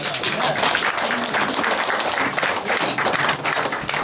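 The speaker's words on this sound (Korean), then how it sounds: "여러분 우리 모두 기쁜 이 일을 위해서 박수 한번 칩시다." Sustained audience applause at a Korean commemorative ceremony honouring a historical general, dense and steady throughout with a faint murmur of voices underneath.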